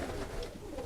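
Pigeons coo in a loft, a soft, low, brief cooing close by, with no talk over it.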